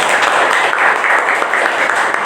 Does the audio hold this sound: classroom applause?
yes